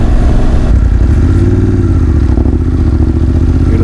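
A motorcycle fitted with only a link pipe in place of a full exhaust runs loud and close on a road toll route toward Solan and Shimla, a steady throbbing engine drone with a slight rise partway through.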